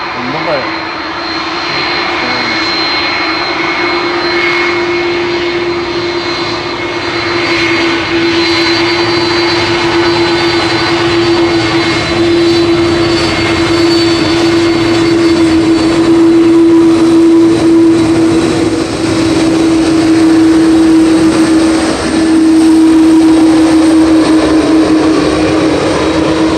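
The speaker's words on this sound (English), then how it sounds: "Listen to that engines." Jet engines roar steadily as an airliner passes at Manchester Airport, a loud sustained drone with a warbling whine that swells and lingers.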